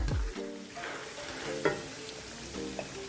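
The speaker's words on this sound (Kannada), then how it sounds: "ಗೋಡಂಬಿ ಕಡಲೆಕಾಯಿ ಬೀಜ ಎಲ್ಲ ಹದವಾಗಿ ಆಗಿದ ತಕ್ಷಣ" Cashews, peanuts and roasted gram are dry-roasting in a pan, making a quiet, steady sizzle with occasional stirring scrapes and light clatter underneath.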